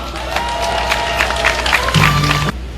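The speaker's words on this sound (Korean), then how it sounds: "여러분 큰 박수로 보내주시기 바랍니다" Crowd applause at an outdoor Yeouido rally of self-employed business owners, welcoming a regional association chairman from Donghae, Gangwon Province; steady dense clapping throughout with a sustained tone and brief voice near the end.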